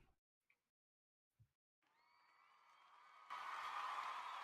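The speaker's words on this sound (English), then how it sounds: "Applause. Sound effect." Applause sound effect played from a soundboard: after a few faint clicks, a crowd's clapping and cheering swells in and grows louder toward the end.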